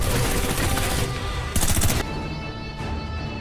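Rapid bursts of gunfire in a film scene, with sharp loud volleys breaking out in clusters over a dense, busy soundtrack, the shots coming in quick rattling runs.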